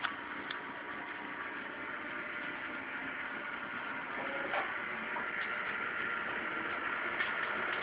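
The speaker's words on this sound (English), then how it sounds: "First things first, turn on the ventilation." A ventilation fan runs steadily in a workshop before torch work, a constant broadband whoosh at moderate level with a few faint ticks and clicks over it.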